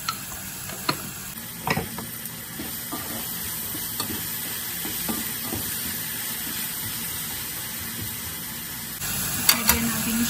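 Butter melting and sizzling in a hot pan with chicken, a steady close frying crackle with scattered sharp pops and stirring clicks throughout, no talking.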